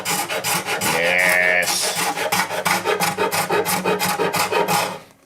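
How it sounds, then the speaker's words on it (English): A steady rhythmic rasping scrape as a tool strips veneer and glue from wood on a handmade acoustic guitar in a garage workshop, loud and close, with repeated even strokes and a brief word spoken. "it's going to scrape off the veneer and the glue if I'm really careful with it"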